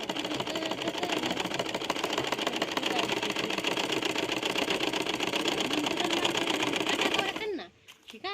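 A sewing machine stitches a blouse, running as a fast, continuous, evenly buzzing whir for about seven seconds before stopping abruptly, followed by a brief voice.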